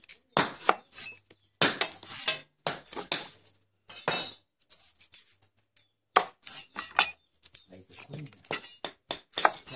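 Bamboo shoots being cut with a knife, sharp chopping and crunching strikes in irregular bursts separated by short pauses, close and clear, with a voice talking at times.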